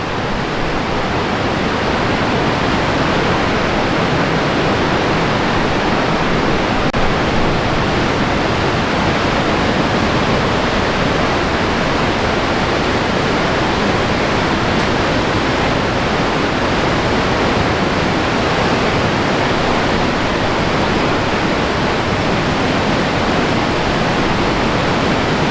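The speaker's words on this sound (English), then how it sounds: "See the water inside there? The waterfall is inside." Box Canyon Falls roaring inside a narrow rock canyon in Ouray, a loud, unbroken wash of falling water that stays constant throughout.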